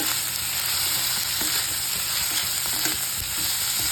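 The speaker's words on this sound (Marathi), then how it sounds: "भाजलेले शेंगदाणे हे चांगलं परतून घ्यायचं" Roasted peanuts sautéed in a hot pan for upma, a loud continuous sizzle with frequent light scraping and clicking as they are stirred, no talking.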